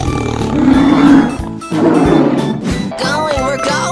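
Tiger roaring in a 3D animal video game, a loud close growling roar that swells and breaks off, followed by further animal roars and game sound effects in quick succession.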